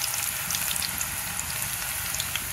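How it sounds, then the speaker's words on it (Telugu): Bitter gourd pieces frying in hot oil in a pan at home, a continuous dense sizzle and crackle that stays steady and close, with no talking. "పైన బండి పెట్టుకొని ఇలా ఆయిల్ పోసుకొని ఆయిల్ వేడెక్కిన తర్వాత"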